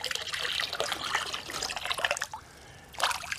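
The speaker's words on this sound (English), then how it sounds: "Put it in a solo cup, and I'm just going to pour it in." Epsom salt solution poured from a plastic solo cup into a greenhouse planting bed, a close, steady splashing trickle that pauses briefly and then resumes with a short final gush.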